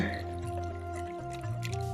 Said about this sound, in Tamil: எவ்வளோ மெலிசாக ஊற்ற முடியுமோ அந்த அளவுக்கு மெலிசாக ஊற்றணுங்க